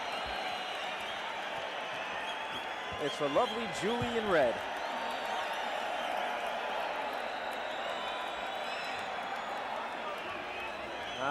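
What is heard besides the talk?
crowd roaring at boxing match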